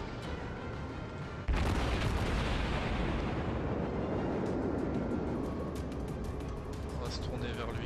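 Heavy booming naval cannon fire in the video game World of Warships erupts suddenly and continues as a dense, rumbling barrage of blasts, loud and close.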